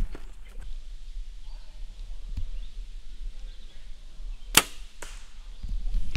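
An arrow is shot at an outdoor 3D archery course and strikes another arrow already in the target, giving one sharp crack amid quiet outdoor ambience and a few faint knocks.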